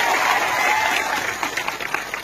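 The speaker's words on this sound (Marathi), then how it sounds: "सगळ्यांसाठी टाळ्या" A crowd applauding at a political rally hall, dense clapping that starts full and then thins into scattered, uneven claps over about two seconds, fairly loud and close.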